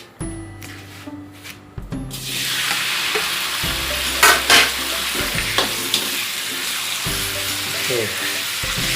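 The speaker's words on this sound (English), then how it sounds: "We preheat our pan, our wok pan. Then we add some oil, then swirl it, and then add the squid." Squid hits hot oil in a wok and erupts into loud, steady frying, with clanks and scrapes of stirring throughout; the first two seconds hold only quieter pan sounds before the squid goes in.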